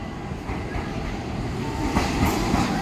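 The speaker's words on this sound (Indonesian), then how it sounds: "Nah ini jalur 7 ada lokomotif pulang." A locomotive rolls in on track 7 at a busy Jakarta railway station, a steady rumbling train noise with wheel clatter and a faint high squeal as it arrives.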